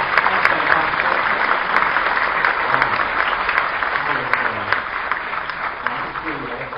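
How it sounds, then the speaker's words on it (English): Sustained applause from an audience, a dense steady patter of clapping that stays loud throughout. "a round of applause"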